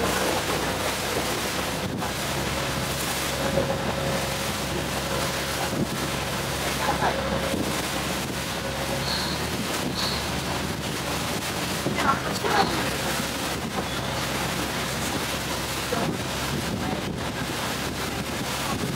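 Sea water and wind near Bangkok make a constant rushing wash with buffeting gusts against the microphone, loud and unbroken throughout.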